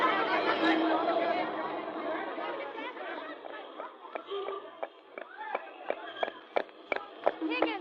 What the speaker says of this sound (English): The crowd seems to be chasing somebody.